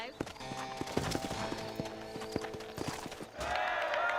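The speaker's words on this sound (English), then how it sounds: "Horse is racing" Rapid clip-clop of galloping hooves with a horse whinny during a horse race in Red Dead Redemption, under synthetic game-like effects, ending in a louder rushing burst.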